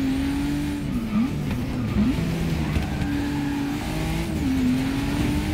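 A 2017 Ford GT race car in Forza Motorsport 6 holds a loud, continuous engine note that dips and climbs as it brakes and accelerates through turns, with faint tire squeal underneath.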